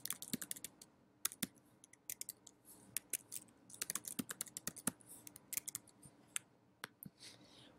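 Rapid, crisp computer keyboard typing with scattered mouse clicks, close and fairly quiet, in irregular bursts with short pauses and no voices.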